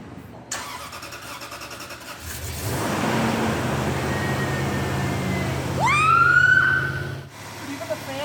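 A Toyota 4Runner 4th-gen V8, newly fitted with headers, exhaust and a new frame, cranks and catches, then settles into a steady idle that swells briefly before cutting off, with a high whine rising over it near the end.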